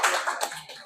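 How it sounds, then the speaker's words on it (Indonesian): A classroom of students claps briefly at a university lesson, a short burst of hand clapping that quickly thins out and fades. "Tepuk tangan dulu dong."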